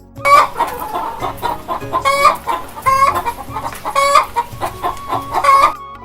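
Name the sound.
chicken clucking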